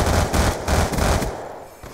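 Rapid automatic gunfire rattles in the shooter game Black Ops 2, with loud, close bursts of dense shots that fade toward the end of a short burst, with no voices.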